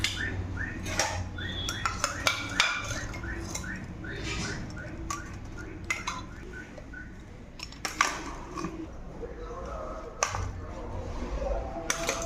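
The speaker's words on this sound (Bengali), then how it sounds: "এবার কুকারটা ঢাকনাটা খুলে ডিমগুলো বার করে নেব।" Pressure cooker lid being opened and boiled eggs lifted out, a run of close metallic clanks, scrapes and taps in an irregular rhythm.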